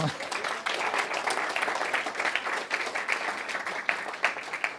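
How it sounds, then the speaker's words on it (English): A church audience at a Sunday service applauds steadily, a dense, even wash of many hands clapping at moderate distance, with no pauses and no voices above it. "let's give women in New Thought a round of applause"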